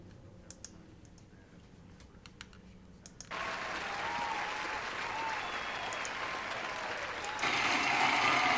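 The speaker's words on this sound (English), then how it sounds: "Give me some applause." Broadband applause from an audience rises suddenly and holds steady for several seconds, getting a little louder near the end, after a quieter stretch with a few faint clicks.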